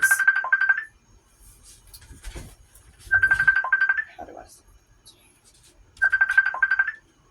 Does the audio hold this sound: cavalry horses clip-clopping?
no